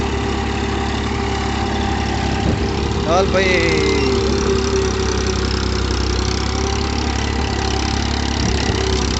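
Massey tractor engine running loudly nearby with a steady low drone and idling throb, a short squealing whine rising midway, while someone speaks briefly over it.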